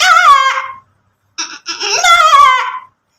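A human voice mimics a crying baby goat: a close, wavering bleat, a short pause, then a choppy stutter that swells into a longer, pleading cry.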